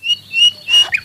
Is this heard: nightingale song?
yes